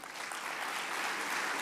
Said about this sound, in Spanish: Le agradecemos, Andrés Malamud, con un fuerte aplauso